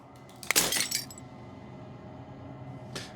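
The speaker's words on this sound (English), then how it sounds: "As the final fragment of the glass shatters" In the video game Slay the Princess, glass shatters in one bright, loud burst of breaking shards with tinkling fragments trailing off, and a second, softer crackle follows a couple of seconds later.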